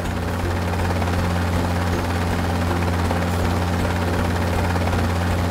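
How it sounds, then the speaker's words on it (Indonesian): A cartoon helicopter's rotor drones loudly and steadily throughout, a constant low thrum with a buzzing wash over it and no break. "Lihat helikopter terbang menjauh."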